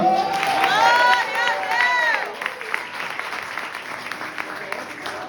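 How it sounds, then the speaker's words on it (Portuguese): Applause from a congregation at a Portuguese-language prophetic worship service, a busy crowd clapping that starts loud beneath cries and voices, then thins and softens into a lighter patter as the shouting stops. "Quem acredita que a sua causa urgente vai ser resolvida, aplaude ele"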